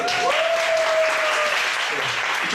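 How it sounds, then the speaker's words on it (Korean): A crowd applauds steadily throughout, a dense wash of clapping, with a brief tonal whine sounding over it early on. "박수 해야죠. 이쪽 박수."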